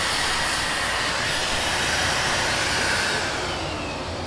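A Numatic Henry HVR-160 compact canister vacuum cleaner runs steadily with a loud, even, airy rushing hum and no breaks or talking.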